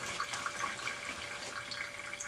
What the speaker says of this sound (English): now you're going to want to wash and dry the bowl